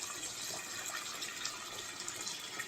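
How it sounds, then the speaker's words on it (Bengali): Hot water poured into curry cooking in a pan, a steady broadband hiss and splash of liquid running continuously at close range, with no talk over it. "দেখি একটু গরম জল দিলে ভালো হয়"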